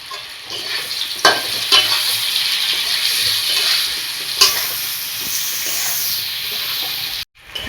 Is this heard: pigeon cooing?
no